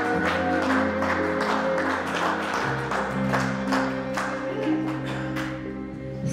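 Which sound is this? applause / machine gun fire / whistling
applause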